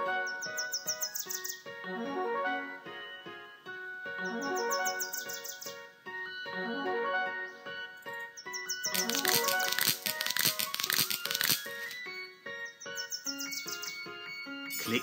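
Bird chicks chirping in the Home Tweet Home flash game, bright repeated bursts of high cartoonish tweets over a cheerful game melody, loud and close, with a denser, noisier stretch in the middle.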